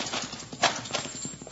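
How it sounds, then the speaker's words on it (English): Horses' hooves clip-clop in a steady galloping rhythm as riders leave in an old western radio drama, loudest in the middle and fading slightly, with no talk over it. "Horses, they're riding off."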